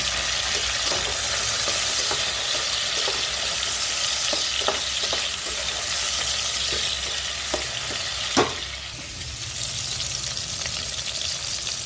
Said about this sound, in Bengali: টমেটোটা দিয়ে দেবো।